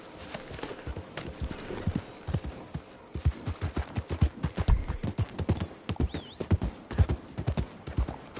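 Horse hooves gallop in the video game Red Dead Redemption 2, a loud, rapid, steady clip-clop rhythm with a brief whinny and faint background sounds.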